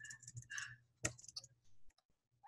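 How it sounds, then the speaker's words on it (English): Arrow keys on a computer keyboard tapped while stepping through footage frame by frame, a few quiet, separate plastic clicks with short gaps between them in a hushed room. "I'm going to use my arrow keys to move through the footage frame by frame"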